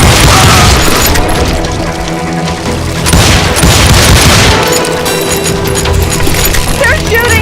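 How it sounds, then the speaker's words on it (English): Gunfire erupting in a street in the video game GUNSlinger: loud, dense booming shots and bursts fill the whole stretch over a busy mix of game sounds. "They're shooting in the street!"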